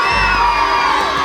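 A noisy crowd fills the space with a dense, continuous roar of overlapping voices, shouts and whoops, loud and unbroken from start to finish.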